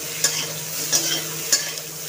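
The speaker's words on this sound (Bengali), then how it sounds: "পুরো সবজিটাই একসাথে ভাজা হবে।" Mixed vegetables and onion frying together in a pan, a steady hiss of sizzling oil broken by three sharp scrapes of a spoon stirring, close and without talk.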